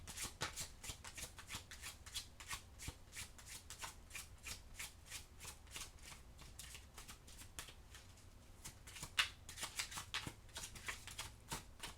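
Oracle cards shuffled by hand in a steady run of crisp, close riffling slaps over about twelve seconds, with no voice.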